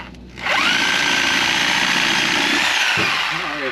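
A power tool fitted with a new wood blade cuts steadily through material during cotton picker repair work, a loud continuous whining grind that starts abruptly and holds for several seconds before a brief dip near the end.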